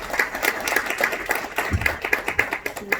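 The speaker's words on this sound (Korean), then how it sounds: "큰 박수 부탁드립니다" Audience applause at a law firm symposium on gender equality, greeting a lawyer introduced as a presenter: many hands clapping in a dense, steady patter, moderately loud and continuous throughout, with no talk.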